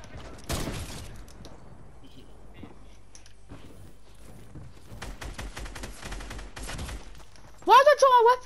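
Several gunshots from a weapon in the video game Fortnite crack out in sharp bursts between quieter stretches, followed by a brief louder synthetic game tone near the end.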